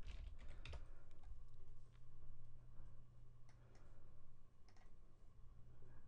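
Typing on a computer keyboard, a quiet string of irregular key clicks and taps from nearby with a steady low hum underneath, and no voices.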